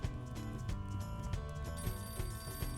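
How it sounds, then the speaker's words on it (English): A telephone rings in the Shadow Hearts video game, a steady repeating electronic bell tone mixed under background game music with no talking. "Ah, the phone now works."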